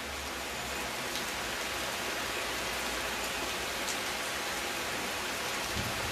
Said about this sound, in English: It rains sometimes in Antalya.